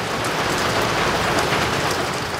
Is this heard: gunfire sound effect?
no